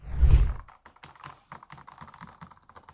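Rapid key clicks from a Montech Darkness MK87DR mechanical keyboard, an uneven run of taps following a louder thump at the start, close up with no voices.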